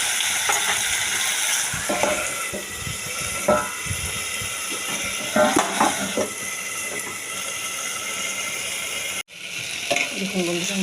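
Yardlong beans and boiled potatoes fry with garlic in a pan, giving a continuous dense sizzle with repeated scraping stirs, and the sound briefly drops out near the end.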